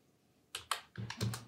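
A handful of quick keystrokes are typed on a computer keyboard, close and fairly quiet, in short irregular bursts with no voice.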